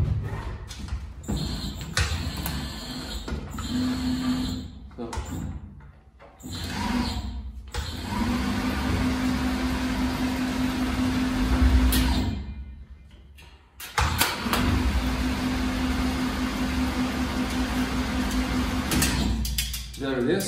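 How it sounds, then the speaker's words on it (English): A sheet metal rounding machine starts and runs in a workshop, its motor humming in stretches broken by short pauses, with clanks and mechanical knocks between runs and someone talking at times. "then we go to the rounding machine"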